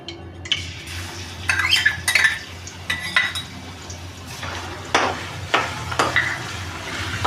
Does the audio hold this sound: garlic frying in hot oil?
yes